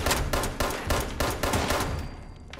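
Rapid bursts of gunfire in the video game Fallout 76, loud and close, firing in a steady repeating rhythm of about five volleys before trailing off, with no talk over it.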